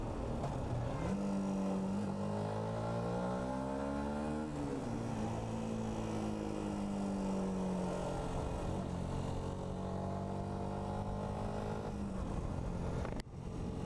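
A steady engine drone with rising and falling pitch, as a motor vehicle revs and idles nearby for several seconds.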